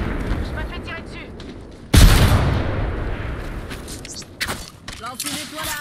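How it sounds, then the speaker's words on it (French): Gunfire in the video game Apex Legends, one loud booming shot followed by a decaying roar and scattered further cracks, with someone talking over the firefight. "Je me fais tirer dessus"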